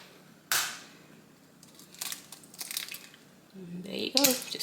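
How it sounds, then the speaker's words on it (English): Eggs cracked against a bowl edge while baking a pineapple cake: a sharp crack near the start, a few softer shell taps and crinkles, then a voice speaking at the end. "So we're going to crack these eggs up."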